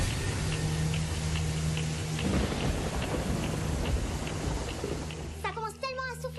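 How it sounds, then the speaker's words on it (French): Heavy rain and strong wind roar steadily and loudly, a dense wash of falling water that eases slightly toward the end, where a voice briefly cuts in. "Ça commence tellement à souffler, la pluie s'en mêle"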